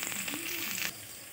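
Onions tossed into a pan over garlic paste and black cumin seeds sizzle loudly and steadily, the hiss dropping suddenly partway through.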